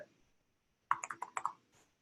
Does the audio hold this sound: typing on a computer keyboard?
yes